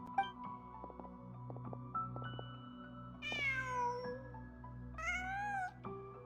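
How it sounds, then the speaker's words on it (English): Cat in a video game meowing twice, long drawn-out and whiny, close and clear over soft layered game music and scattered tones. "Just a cat."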